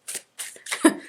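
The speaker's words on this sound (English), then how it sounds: "I'm going to give the deck a little shuffle" A tarot card deck being shuffled, giving three short bursts of papery riffling close up, the last one loudest, with no talking.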